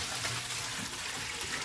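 Soaked rice noodles being drained for Thai pad see ew, water pouring and splashing steadily throughout, close and fairly loud with no talk.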